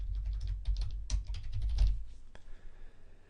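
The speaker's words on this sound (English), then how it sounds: "I can just type in for my keyword" A computer keyboard clicks under quick, close keystrokes as a keyword is typed in, a rapid flurry of taps that thins out to a few final presses.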